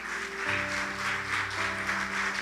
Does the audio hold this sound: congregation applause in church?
yes